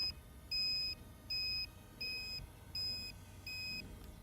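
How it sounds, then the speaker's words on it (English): A pre-test alarm sounds at T-minus 30 ahead of a Booster 4 static fire: six evenly spaced electronic beeps, each lasting about half a second, repeating at a steady rhythm over a quiet outdoor background. "At T-minus 30 will be the alarm, which you will hear."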